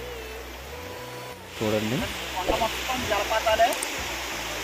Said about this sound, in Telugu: కొండ మొత్తం పారుతున్న వాటర్ ఫాల్స్, వాటర్ ప్రవాహం సౌండ్స్ చూడండి ఎంత విపరీతంగా వస్తున్నాయో